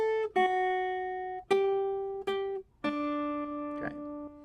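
A clean guitar plays a slow melody line from "Silent Night", single sustained notes, five plucks in all, each ringing out before the next.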